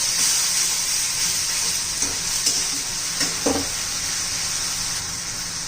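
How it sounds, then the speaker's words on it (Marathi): Tomatoes cooking in hot oil in a pan give off a steady, loud, close sizzle, broken by a few soft stirring knocks and no voices. "आता टोमॅटोचा कच्चेपणा जाईपर्यंत आपण हे तेलात शिजून घेणार आहोत."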